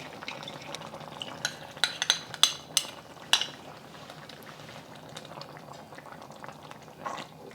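Cornstarch sauce heats in a pan with a steady low bubbling and simmering, broken by a few sharp clinks and taps of a utensil against the pan near the start.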